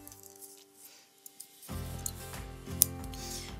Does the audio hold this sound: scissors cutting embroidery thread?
yes